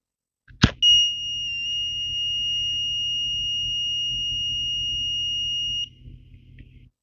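A sharp click, then a steady high-pitched electronic buzzer tone from an Arduino flame-sensor fire alarm, triggered by a lighter flame, sounds continuously for about five seconds before cutting off.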